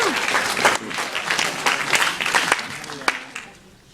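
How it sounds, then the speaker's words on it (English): Audience at a Toronto After Dark 2012 Q&A breaks into applause, a burst of sharp scattered claps that thins out and fades toward the end, with a voice briefly audible over it. "Give yourselves a hand, please."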